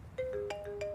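A mobile phone rings with a short electronic melody of bright, rising tones, fairly faint against room noise, and no one talks over it.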